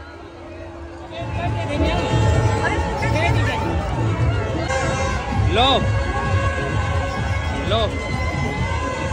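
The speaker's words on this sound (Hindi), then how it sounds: "बहुत भीड़ है, बहुत ज्यादा भीड़ है, अनलिमिटेड भीड़ है।" A large, dense crowd at a Dussehra fair fills the air with constant babble, chatter and children's shouts, with a few nearby voices calling out over the noise.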